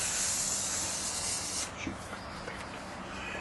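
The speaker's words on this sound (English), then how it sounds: "In order to lubricate the track, it's a matter of taking your spray, running it across down both sides." Lubricant hisses from a spray can as it is run along both sides of a patio door track, a loud, close, continuous spray that shifts in tone partway through, with no talking.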